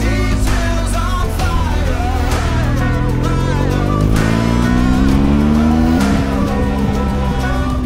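A car drives fast along an Alpine mountain road in the Piedmont Alps, its engine droning loud and steady, pitch climbing as it accelerates, with a brief squeal of tires.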